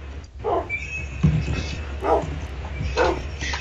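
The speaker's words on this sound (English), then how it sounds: "Punch Mojo's dogs." Dogs barking in a Minecraft video game, several short barks and yips spread across the moment, moderately loud over a busy game background with some whimpering.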